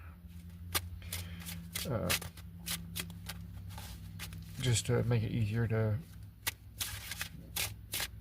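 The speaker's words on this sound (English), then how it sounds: "While I'm shuffling" Tarot cards shuffled by hand make a steady run of soft papery riffles and slaps, close and continuous, under a person talking.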